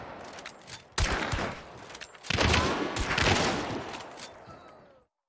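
Gunfire in the video game Hunt: Showdown: a few sharp, heavy shots ring out, the loudest around the second and third seconds, with echoing tails before cutting to silence.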